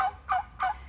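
A farm turkey gives quick gobbling calls, three short, close bursts in a rapid rhythm with no talking.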